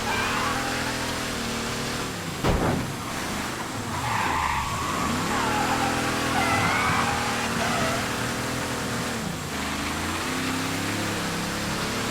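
A car skids and scrapes in the video game Mafia III, with a steady engine drone and sliding tire noise throughout and a sharp impact scrape near the start, under continuous game sound.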